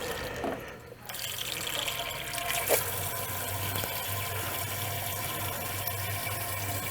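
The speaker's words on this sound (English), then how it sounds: "We're going to let our hose fill right until we see the water fill right about there." Water from a hose pouring steadily into a 12-quart water ice machine, a continuous splashing rush with a low hum beneath, close and even throughout.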